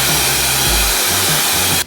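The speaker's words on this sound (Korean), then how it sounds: "그리고 이 상태에서 드라이기 열을 한번 줘볼게요." A hair dryer blows heat onto hair in a styling session, a loud continuous whoosh held close for a couple of seconds before switching off.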